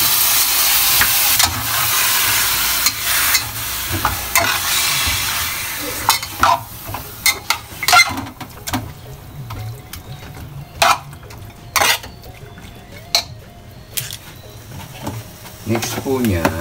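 Chicken wings for sinigang go into a pot: a burst of hissing sizzle at first, then repeated scraping and stirring knocks at irregular intervals, close and clear, with some quiet talk.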